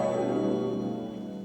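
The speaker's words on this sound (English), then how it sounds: "you'll hear real splashes of foam coming up out of the waves, and they're all made of the whole tone scale" Brief orchestral burst of rising whole-tone scale runs evoking sea foam in a Debussy seascape, a dense shimmering texture over low sustained notes.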